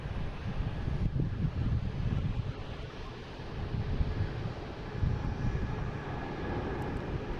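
A JetBlue Airbus A220 airliner at Boston Logan International Airport, a steady low roar of jet engines heard at a distance, mixed with wind noise on the microphone.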